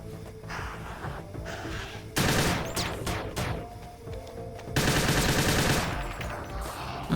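Sustained automatic gunfire in the sci-fi shooter Perilous Warp, loud, continuous bursts of rapid shots with sharper volleys partway through, the weapon firing almost without pause.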